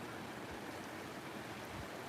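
Water rushes steadily down a small rocky creek full of limestone chunks and gravel, a continuous broadband wash with no breaks or voices.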